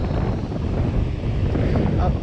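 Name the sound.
strong wind while fishing at the shore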